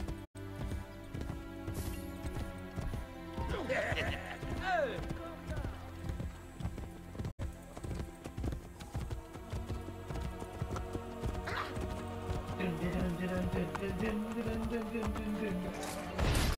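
In Assassin's Creed Brotherhood, a horse's hooves clop in a quick, steady rhythm, with a whinny rising over them and voices and background game sound mixed in.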